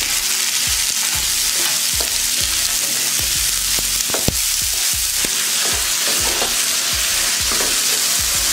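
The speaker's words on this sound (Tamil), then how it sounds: "தக்காளி நல்லா வதங்கிடுச்சு." Tomatoes and mint sautéing in a hot pan for chutney: a loud, continuous sizzle close up, with repeated spatula stirs scraping through it.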